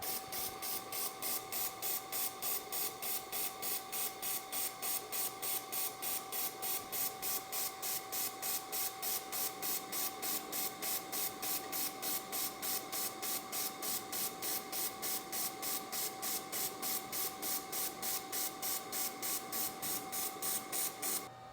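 Steady hissing and rapid pulsing from an XLaserlab X1 Pro laser welder laying a bead with its shielding gas flow turned up, running continuously at an even level with a fine rhythmic ticking throughout.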